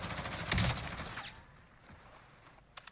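A rapid burst of gunfire in Call of Duty: Warzone crackles loudly for about a second, then fades into quieter scattered clicks and a few faint sharp pops.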